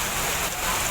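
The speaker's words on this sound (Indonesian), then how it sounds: "Hujan deras di wilayah Desa Limus Nunggal, Kecamatan Cilengsi, Kabupaten Bogor, Jawa Barat membuat debit air di sekitar meningkat" Heavy rain falls over Limus Nunggal village in Cileungsi, Bogor, West Java, heard as a brief, steady, dense hiss.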